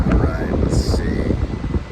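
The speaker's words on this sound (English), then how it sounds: "Lots of wind." Strong outdoor wind buffets the microphone with steady low rumbling gusts across the whole stretch, at a country club golf course in Fort Worth.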